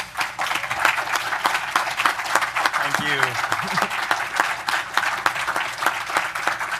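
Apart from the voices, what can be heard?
convention panel audience applause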